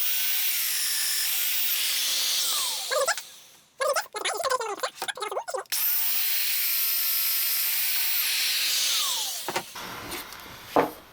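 A Festool Domino DF500Q joiner cuts two mortise holes in wood. Two long, loud, steady whirring hisses of the motor run, separated by a short gap of handling noise, with a faint tail at the end.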